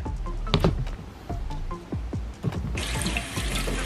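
Water runs from a kitchen tap into a sink as freshly harvested garden vegetables are rinsed, a steady splashing flow that grows louder and fuller toward the end, with brief handling sounds.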